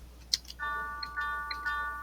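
A few bright, ringing tubular bell tones sound in succession, each sustaining with a shimmering overtone, quiet and alone.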